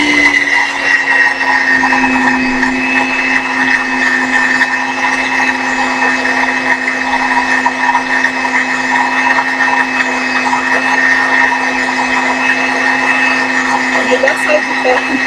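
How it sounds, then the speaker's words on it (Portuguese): An electric mixer whips a honey marshmallow mixture, a steady loud whirring motor hum with a sustained whine, running continuously throughout with a small change near the end. "Eu vou aumentando a velocidade da batedeira aos poucos."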